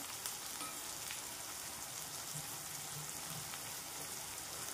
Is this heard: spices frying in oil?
yes